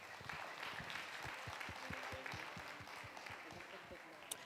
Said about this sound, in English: Please join me in a round of applause again for our amazing organizers.